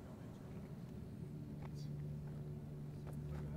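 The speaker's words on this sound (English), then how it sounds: "Motors running on two vehicles." Two vehicle motors idle steadily outdoors at night in the White Mountains, a low continuous drone with a strong sustained hum throughout and faint higher noises drifting above it.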